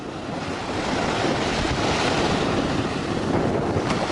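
Waves wash steadily at the water's edge of a shore, a continuous broadband surf roar mixed with wind buffeting the microphone, with no voices.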